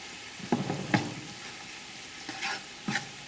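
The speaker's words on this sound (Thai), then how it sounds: "เคี่ยวน้ำตาลให้เขาละลายไปเลย" Sugar for braised duck simmers gently in a pan, a soft sizzle running underneath while a utensil scrapes and stirs in four or five distinct strokes.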